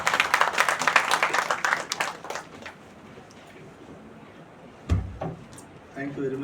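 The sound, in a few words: audience applause welcoming a speaker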